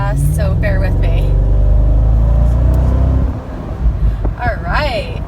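A 2003 Mercedes-Benz SL55 AMG drives fast through a residential neighborhood, with a loud, steady engine rumble heard from inside the cabin that eases off partway through, while a voice talks over it.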